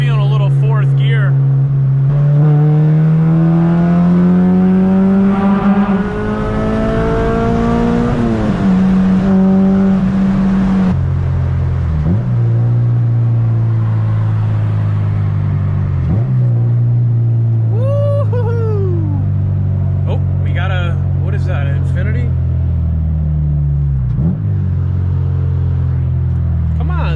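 A Honda Civic Si engine revs up repeatedly through the gears into fourth, each pull rising in pitch then dropping at the shift, loud and close from inside the car, with occasional talk over it.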